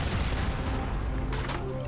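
An explosion in the video game Shadowgun Legends booms heavily, followed by rumbling blasts and gunfire-like crackle, loud and dense throughout.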